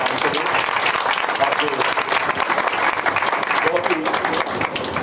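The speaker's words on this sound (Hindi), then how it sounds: "एक जोर से तारीफ जाए, ताली बजना है।" A congregation claps loudly and continuously together during a Hindi Christian worship service, dense applause filling the whole stretch while someone speaks over it.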